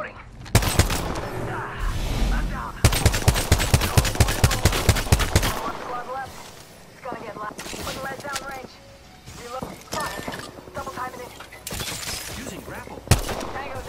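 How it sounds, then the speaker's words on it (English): Rapid bursts of automatic gunfire in Apex Legends, loud clustered volleys in the first few seconds, then scattered shots and clattering effects with intermittent game voice lines. "They're shooting at me."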